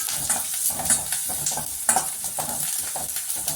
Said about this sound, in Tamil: இப்போ கருவேப்பிலையை சேர்த்து வணக்கிக்கலாம்